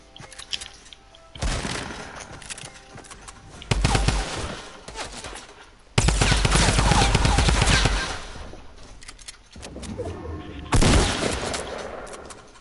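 Bursts of rapid automatic gunfire from a video game sound loud and close, arriving in several dense volleys with quieter stretches of muffled game noise between them.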